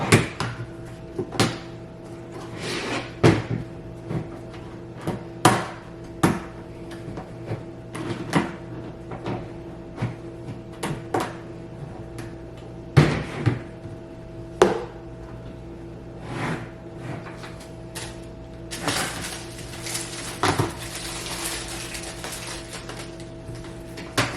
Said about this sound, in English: I just gotta add the glass door